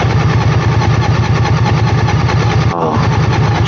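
An Indian motorcycle's engine runs on a cold early-morning ride, a loud, steady pulsing rumble that fills the whole stretch with only a brief dip near the end.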